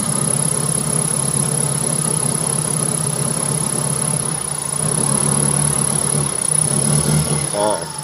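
A Toyota Corolla Twincam engine idles and stutters unevenly under light throttle with a steady low rumble and a brief rougher patch near the end. A voice talks over it at times.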